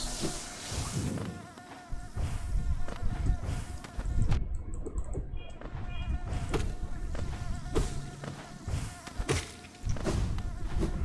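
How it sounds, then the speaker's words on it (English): Swarming bees in the video game Hollow Knight buzz in a continuous, dense drone, with soft in-game thumps and effects scattered over the steady hum. "here to the right side we have this area full swarming with bees"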